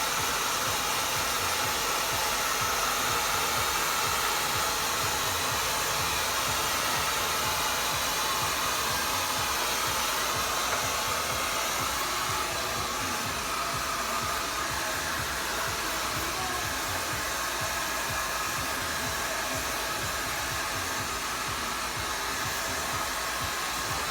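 A handheld blow dryer runs steadily and loudly on a medium-length hairstyle being dried at the roots, a continuous close airy roar with no talking.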